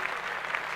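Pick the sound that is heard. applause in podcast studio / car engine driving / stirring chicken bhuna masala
applause in podcast studio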